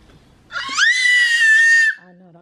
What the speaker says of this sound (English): Oh no, don't start screaming